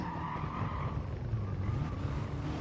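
Tires skidding under the handbrake in a racing video game, a sustained engine drone with a screeching slide lasting a couple of seconds, heard alone.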